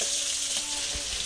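Pabda fish frying in hot oil in a village kitchen, a steady close hiss of sizzling with small crackles throughout and no talking.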